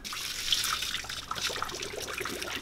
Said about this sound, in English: So I'm going to pour off as much water as I can without dumping them in the sink.